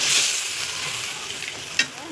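Gravy poured into a hot pan for a Bengali mustard curry, giving a brief soft sizzle and hiss that fades quickly, with a faint clink near the end.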